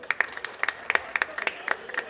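An audience at a Pakistani community iftar dinner claps, sharp individual hand claps in a fairly sparse, irregular rhythm, close and moderately loud.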